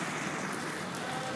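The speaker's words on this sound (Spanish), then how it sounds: "Está lloviendo, me estoy mojando." Steady rain patters densely on a surface, a continuous hiss of drops close by with no voices.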